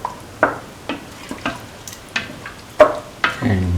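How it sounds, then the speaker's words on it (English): Chicken, carrot and coconut milk rice is stirred in a pan, a utensil scraping and knocking against the metal in about ten distinct strokes over a quiet low sizzle, near and moderately loud. "Mix the rice thoroughly"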